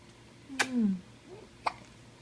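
A two-month-old baby hiccups twice, each a short sharp catch of breath, the first followed by a small gliding voiced squeak, close and clear in a quiet room.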